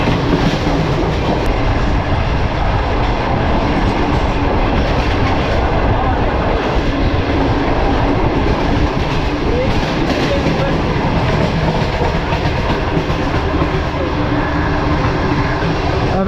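Loud, continuous rumble and clatter of the Tezgam passenger train running through Gujranwala railway station without stopping, heard close up as a steady dense roar with rhythmic wheel clacking.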